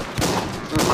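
Shotgun blasts from the zombie video game The Walking Zombie 2, heard as two loud, broad bursts about half a second apart over a continuous game soundscape, with no speech.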